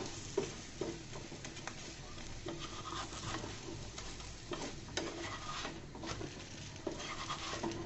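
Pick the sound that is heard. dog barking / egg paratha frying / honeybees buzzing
egg paratha frying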